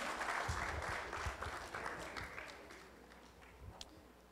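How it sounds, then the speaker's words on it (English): Audience applause at a university NSTP graduation ceremony, steady scattered clapping from a large crowd heard at a distance, gradually thinning out over a few seconds. "A warm round of applause, please."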